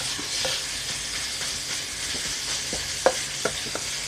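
Minced pork stir-fried in a pan gives a steady, soft sizzle. A few sharp scrapes and taps from stirring cut through it near the end, with no talking.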